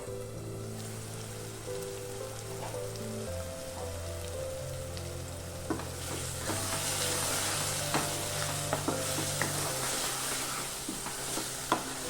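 Spinach cooking down with onion masala in an oiled pan for Palakura Ullikaram, a steady close sizzle and frying hiss throughout, with scraping stirring strokes and little clicks from the spoon growing busier toward the end.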